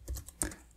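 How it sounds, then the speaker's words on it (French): A few keystrokes on a computer keyboard while a command is entered on a Linux system to set up Klipper 3D-printer firmware, with a soft pair of taps and then one sharper click, close and quiet, with no talking. "il y a aussi de fortes probabilités que vous ayez à taper la commande suivante"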